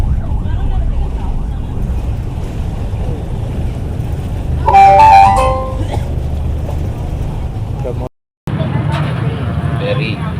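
A ferry makes the crossing on Lake Toba to Samosir Island, a steady low engine rumble with wind buffeting the microphone, while people talk nearby and brief brighter sounds rise midway.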